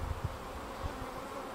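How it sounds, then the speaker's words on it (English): Low, close buzzing hum of honeybees inside a hive as they lick up spilt nectar, steady with faint pulsing. "So the bees are licking it all up."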